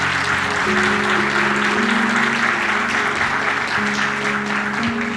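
Church congregation at a Portuguese-language sermon applauding continuously, a dense wash of clapping over sustained organ or keyboard chords.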